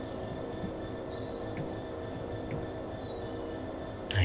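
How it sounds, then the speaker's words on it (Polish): In the Train Sim World video game, another train approaches with a steady low rumble and rolling wheel noise, a faint whine and a few light squeaks above it, with no talk. "A jeszcze jakiś inny pociąg nadjeżdża."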